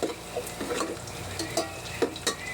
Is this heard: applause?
no